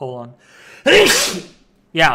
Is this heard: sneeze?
yes